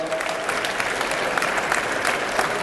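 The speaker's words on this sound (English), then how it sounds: "Give him a round of applause." Audience applause at a police recognition luncheon for a sergeant, a dense steady wash of many hands clapping, fairly loud and continuous throughout without a break.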